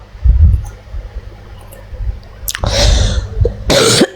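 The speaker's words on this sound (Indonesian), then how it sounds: "Nenek batuk, cu. Nenek batuk." An elderly woman coughs close by in a few harsh, loud bursts separated by short pauses, with a throaty cough early on and two strong fits toward the end.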